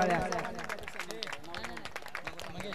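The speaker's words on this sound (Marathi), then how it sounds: "सागर मोहिते यांच्यासाठी जोरदार टाळ्या" Clapping from an audience at a prize ceremony for a Champion Trophy sports tournament in Shiral, 2024, steady and fairly close, mixed with a voice speaking over it throughout.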